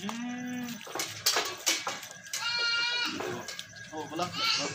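Rajanpuri goats bleat repeatedly, some calls near and loud with wavering cries, mixed with someone talking and faint clinks of metal in the background.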